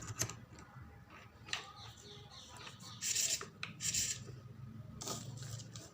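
A bit being tightened into the chuck of a new drill machine: quiet, close scraping and ratcheting clicks come in short irregular bursts, with a couple of brighter metallic rasps near the middle.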